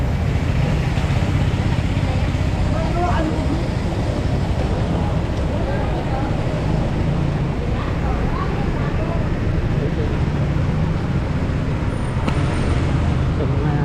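Busy street traffic in Manila beside the Estero de Magdalena, a continuous rumble of cars and motorcycles passing close by, with occasional louder engine surges and voices in the background.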